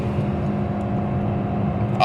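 A Toyota RAV4 with a CVT gearbox, running on LPG, accelerates on a German autobahn: a steady, loud engine drone and road roar heard from inside the cabin, holding even throughout.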